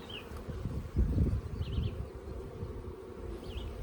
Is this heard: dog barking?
no